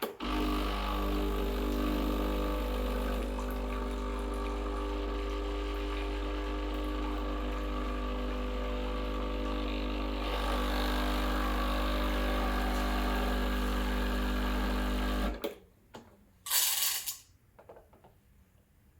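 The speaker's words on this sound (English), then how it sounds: "to run hot water through the system, heat up the handle, and also heat up the cup." A Breville Barista Express BES870 espresso machine runs hot water through its system, giving a loud steady pumping hum that holds for about fifteen seconds, then cuts off and leaves a few brief clicks and rattles.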